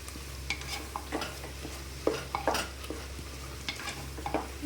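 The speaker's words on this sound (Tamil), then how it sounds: "இன்னும் வதக்க வேண்டும்." Vegetables are sautéed in a pan for veg biryani, with repeated close scraping and stirring strokes from a utensil against the pan over a faint, steady sizzle.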